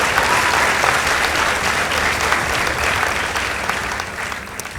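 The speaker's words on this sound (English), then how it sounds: "Let's give them a round of applause" Steady, loud applause from a debate audience, sustained and dense across the whole stretch before fading slightly at the end, after the Stafford Boys team's score in a debate against Naivasha Girls is announced.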